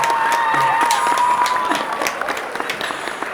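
A short burst of applause from a small group, steady clapping and some cheering that tapers off after a few seconds.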